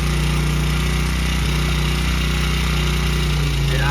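A Honda CRF100F kids' dirt bike engine idling steadily up close, a loud, even mechanical putter with no talking.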